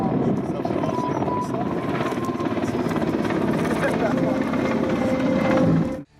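Steady, loud Ka-52 coaxial-rotor attack helicopter rotor and engine drone, continuous throughout before cutting off abruptly near the end.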